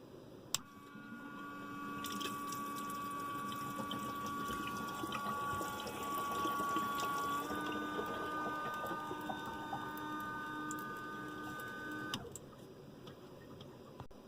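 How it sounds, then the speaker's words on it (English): A windshield washer pump pushing water from 5-gallon jugs to a camper van sink gives a steady, close electric whine with a trickle of water, running for about twelve seconds between a click on and a click off. "this is actually a windshield washer pump"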